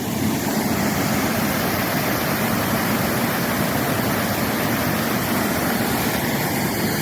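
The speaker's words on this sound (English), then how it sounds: "the water is running right off the falls right beside me" A waterfall in Talladega National Forest's Cheaha Wilderness roars right alongside, a loud, continuous, steady rush of falling water that fills the entire stretch with no pauses.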